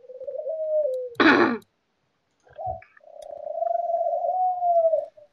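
Birds in The Walking Dead point-and-click game give drawn-out, tonal cooing calls, one before and one after a short noisy burst, set against otherwise quiet surroundings.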